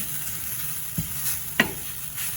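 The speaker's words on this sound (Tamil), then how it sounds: "இந்த மாதிரி ஒரு மூன்று நிமிஷம் வறுத்தெடுப்போம்" Coconut being stirred and roasted in a frying pan for susiyam: a soft, steady sizzle with two brief scraping strokes of a utensil against the pan, close by.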